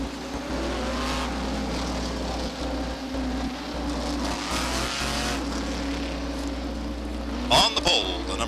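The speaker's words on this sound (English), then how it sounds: "First qualifying heat for the modifieds are on the track now." Modified race cars in a qualifying heat at Beech Ridge Motor Speedway make a constant, loud engine drone as they circle the track, with a track announcer talking over it.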